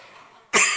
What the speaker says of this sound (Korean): 기침이 나오네.